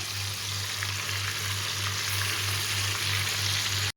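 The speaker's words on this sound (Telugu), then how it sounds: "ఇది ఇలాగే అంతా చికెన్ ఫ్రై చేసేసుకుందాము." Chicken pieces for biryani fry in hot oil, giving a loud, continuous close-up sizzle with a steady low hum underneath. It runs unbroken for about four seconds with no talking.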